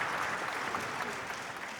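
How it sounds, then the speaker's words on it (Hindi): Audience clapping at the Jashn-e-Rekhta literary festival session honoring filmmakers Anurag Kashyap and Sudhir Mishra, a dense, even wash of hands from a seated crowd that tapers slightly toward the end. "एक बार तालियां हो जाएं दोनों के लिए।"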